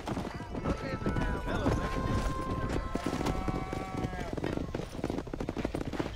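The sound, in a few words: horses galloping while herding cows in video game Red Dead Redemption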